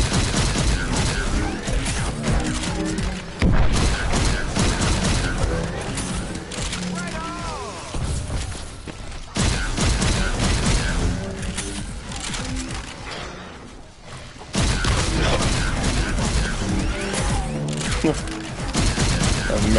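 Repeated heavy blunderbuss blasts in Call of Duty Advanced Warfare Exo Zombies come in dense bursts with short pauses, over constant battle noise, with a voice talking throughout.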